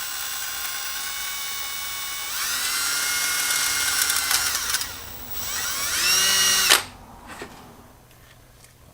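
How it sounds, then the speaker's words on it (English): A power drill whines at a steady high pitch, spinning up and bogging slightly as it bores a hole through metal on a C6 transmission, then winds down and stops with a few clicks. "Instructions say I gotta drill out a hole right here with the drill bit size provided."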